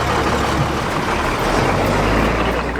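A crowded Guatemalan chicken bus rumbles steadily with a loud, continuous low engine drone and broadband road noise, with no voices.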